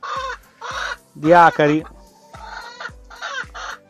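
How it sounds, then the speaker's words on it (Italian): A hen in a backyard coop in Italy gives repeated rhythmic clucks with a louder squawking burst in the middle, close and loud, while someone talks briefly over it. "Adesso gli parlo a sta gallina, gli dico di star zitta."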